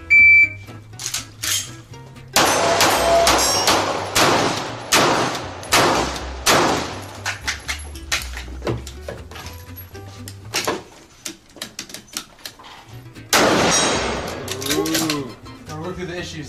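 Shots ring out in a rapid string at a basic shooting competition, loud and close with a short pause between volleys, then a second burst near the end, with talk in the gaps.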